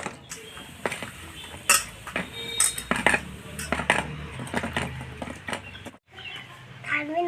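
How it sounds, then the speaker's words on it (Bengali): Okra that was soaking in water is washed and handled for cutting in a home kitchen, with clattering bowls and utensils, scattered knocks and clinks, and a brief pause near the end. "এবার আমি ভালো করে ধুয়ে আমি কেটে নেব"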